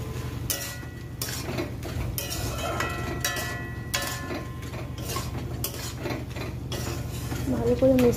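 A spatula stirs vegetables with fish roe in a metal cooking pot, giving steady scraping and clinking against the pot's sides at close range over a low background hum.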